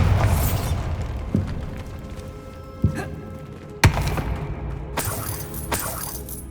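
Bombarda blasting spell cast in Hogwarts Legacy, a few sharp thuds and shattering impacts spaced over a low rumbling background, the loudest burst near the middle.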